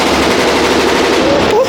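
Rapid gunfire at a gun range, a dense, loud, continuous burst of shots that fills the short moment close by.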